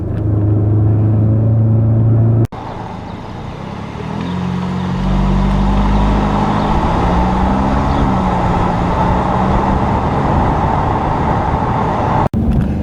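Inside a 2017 Audi S3 with a 2-liter four-cylinder turbo engine, a loud steady engine drone and road rumble, the engine note shifting in pitch as it changes speed, with two sharp clicks breaking the noise.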